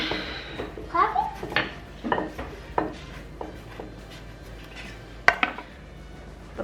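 Kitchen knife slicing open about five ripe avocados, with a few soft knocks of the blade against a board and light clatter, under nearby talk.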